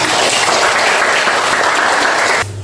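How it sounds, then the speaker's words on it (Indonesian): Schoolchildren in a classroom clap together in a loud, dense burst that holds steady for a couple of seconds, then cuts off abruptly into near quiet. "Tepuk tangan."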